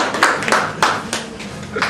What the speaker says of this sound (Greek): Άλλο ένα χειροκρότημα παρακαλώ.